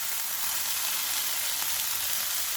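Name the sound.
minced meat (keema) frying with capsicum in oil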